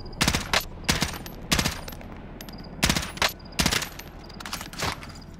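M16 rifle fire in Call of Duty: Warzone, several sharp bursts of automatic shots in irregular clusters, loud and close, with short quiet gaps between them.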